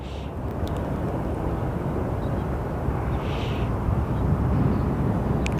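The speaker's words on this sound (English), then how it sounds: "we do have a Frontier Airlines flight that is about to start moving" A Frontier Airlines jet starts to taxi at Phoenix Sky Harbor, its steady engine rumble and broadband roar holding at moderate loudness throughout, with no voices.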